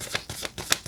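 A deck of playing cards being shuffled by hand, with three crisp riffling bursts spaced evenly across a short moment, close and fairly loud with no talking.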